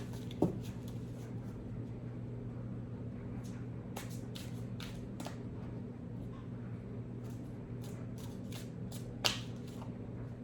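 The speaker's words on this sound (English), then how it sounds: "Cards don't want to shuffle today." Playing cards being shuffled at a table, a steady papery riffle with a few sharp snaps and taps standing out, heard alone under a constant low hum.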